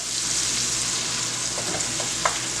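Red snapper, dusted in flour, fries steadily in hot oil for Bajan breadfruit cou cou, a continuous close sizzle with a few brief crackles and pops near the end.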